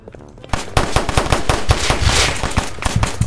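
Rapid gunfire from a Roblox street game set in NYC crackles loud and close, a dense burst of repeated shots running nearly continuously.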